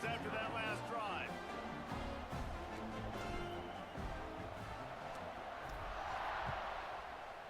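A stadium crowd in a college football video game, Wisconsin at Penn State, roars as a steady, far-off wash beneath a commentator who talks through most of it.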